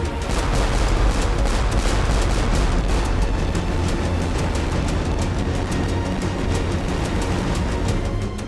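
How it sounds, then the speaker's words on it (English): Cannon broadsides from French warships at the Battle of the Nile, rendered as dense, continuous rolling gunfire with repeated booms layered into a loud, unbroken barrage. "as Goliath comes within range, they open fire"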